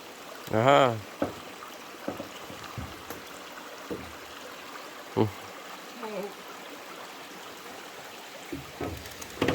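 Soft, steady rush of Spruce Creek flowing through spruce forest on the Superior Hiking Trail, with a few brief voices and bumps breaking through now and then.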